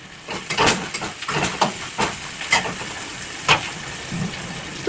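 Chopped bottle gourd being tempered in a hot kadai gives a close sizzling hiss broken by sharp crackling pops at irregular moments, with no voices over it.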